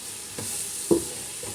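Spice powders stirred into sautéed chicken masala, a faint sizzle under two soft spoon scrapes in the pan.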